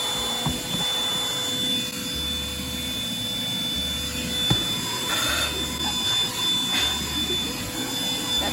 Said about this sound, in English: if you think about getting this Bissell vacuum for pet hair, don't do it